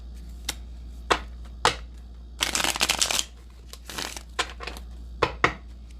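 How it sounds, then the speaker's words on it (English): A deck of tarot cards is shuffled close by in quiet bursts: a few sharp single flicks, then a dense riffling run, another shorter riffle and more crisp taps, with no talking. "One more shuffle."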